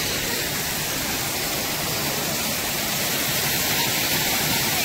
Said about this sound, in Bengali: ঝর্ণার আওয়াজটা খালি শোনো, একটু ফিল করো শুধু।